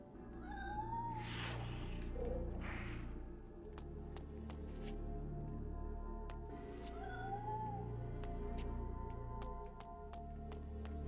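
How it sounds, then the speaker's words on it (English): Drawn-out, cat-like yowling bellows from a creature in the video game Blood Omen 2 on GameCube, two rising wails standing out over steady game ambience and scattered sharp clicks. "I hear like a cat bellowing."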